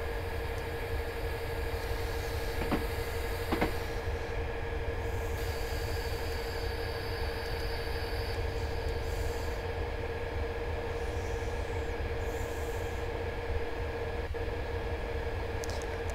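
A heavy freight train in Railworks 2 with the emergency brake applied, rumbling steadily and loudly under a sustained metallic whine and hiss, with a couple of sharp clanks early on and no talking.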